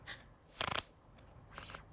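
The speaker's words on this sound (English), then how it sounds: "Another shuffle is a waffle shuffle." A deck of playing cards is waffle shuffled, giving two short, faint riffling bursts about a second apart, with a quieter click at the start.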